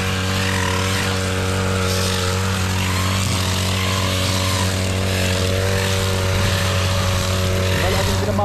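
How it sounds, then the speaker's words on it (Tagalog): A gas-powered grass cutter runs steadily outdoors during a general cleanup of a yard beside a house, giving a loud, continuous buzzing engine drone with a steady pitch throughout. "Mga grass cutter."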